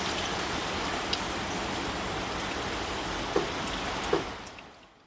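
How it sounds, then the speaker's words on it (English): Steady rain falling over a parked Nissan Primera P12 during a boot water-leak test, a dense continuous hiss with a few sharper drop impacts, fading out at the end. "I think it's about to rain in 3, 2,"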